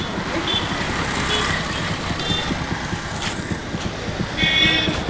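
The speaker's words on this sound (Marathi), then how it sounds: "ए गाडी बघा पाठी आहे." A motor vehicle approaches from behind on a road on a hot day, a steady engine rumble with road noise close by, and a few high beeps come and go.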